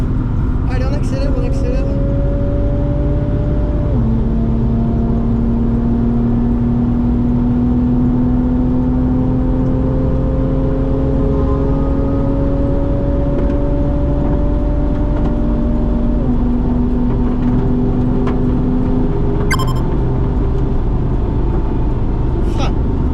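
A Porsche Targa on the Dijon-Prenois circuit pulls through steady acceleration with a loud, continuous engine drone whose pitch climbs in stretches between gear changes. Voices talk over it in the cabin.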